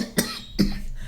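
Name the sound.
cough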